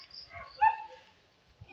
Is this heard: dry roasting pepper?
no